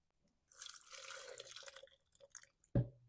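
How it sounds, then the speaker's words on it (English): Fuel being poured out of the tank of a 2012 Husqvarna 240 X-Torq 38cc chainsaw, a soft, faint trickle and splash of liquid that ends with a few drips and a small knock. "Let's dump that fuel out."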